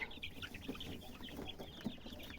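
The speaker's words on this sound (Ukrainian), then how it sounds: "А це тільки одні ціплятка будуть" Chickens cluck softly in a noisy, quiet setting, with scattered short calls over a steady background rumble.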